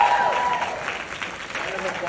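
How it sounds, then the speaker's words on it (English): An audience at a creation panel applauds Sean Flanagan with steady, dense clapping that holds at an even level throughout, with voices mixed in among the crowd and a whoop or cheer near the start. "A round of applause for Sean Flanagan"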